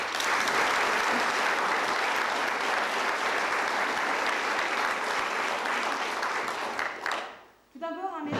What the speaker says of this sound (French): Merci pour vos applaudissements, ça nous fait très plaisir.